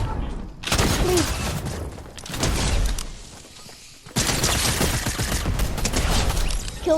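Bursts of gunfire in a video game come in dense loud volleys, broken by a short lull, and then a sustained barrage runs to the end.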